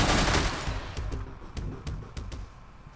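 Automated turret fire in the shooter game Receiver, a loud blast fading into several sharp, separate shots spaced across the clip with no voices over them.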